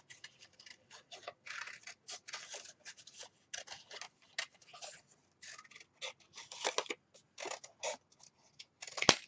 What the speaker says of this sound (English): Always turn the paper and keep your scissors straight so that you can control where the paper goes and how much you cut.